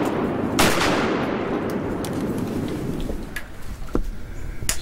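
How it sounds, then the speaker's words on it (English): Shotgun fire during a duck hunt, one loud close blast followed by fainter scattered shots and cracks amid steady outdoor wind noise. "Go ahead, shoot her, Tyler."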